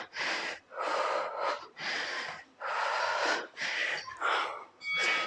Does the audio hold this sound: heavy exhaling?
yes